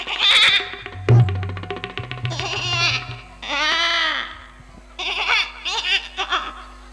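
A voice imitates a goat, giving several wavering, bleating cries during a comedy stage performance. The bleats are loud and close, with short pauses between them and a brief thump partway through.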